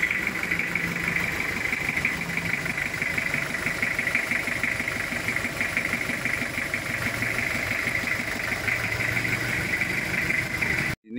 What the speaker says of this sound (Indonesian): Ini sekarang adalah suara mesin setelah